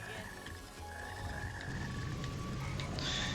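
Frog croaks in the Sonic Heroes video game sound out over looping game music, a steady repeated croaking heard clearly with no talking.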